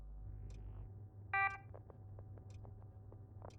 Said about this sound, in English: Please don't boop or beep so loud, computer.